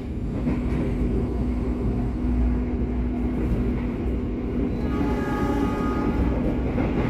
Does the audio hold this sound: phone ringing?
no